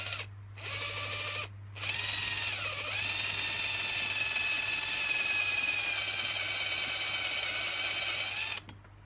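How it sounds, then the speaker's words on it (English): A drill bores out a pop rivet on an LED bench light, whirring steadily and close by for several seconds with a high tonal whine, two short pauses near the start and a stop at the end. "drill down until it touches that edge, then the pop rivet should just fall out"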